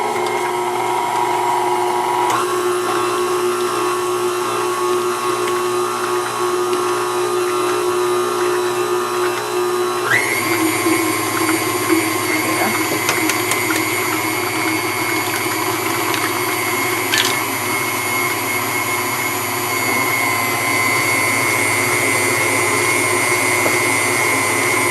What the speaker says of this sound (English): beat in the eggs one at a time